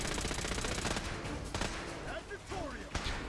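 Rapid gunfire in Fallout 4, a dense run of shots with a few sharper cracks standing out, heard over game background and a talking voice.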